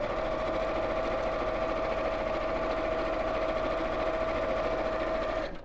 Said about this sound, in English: Right, let's sew this one.